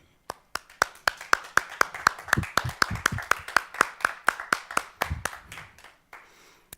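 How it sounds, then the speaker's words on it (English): Clapping for speakers and performers at a first-year welcome event: a quick, even train of crisp claps, close and distinct rather than a dense crowd roar, stopping abruptly before the end. "Please join me in giving them a round of applause"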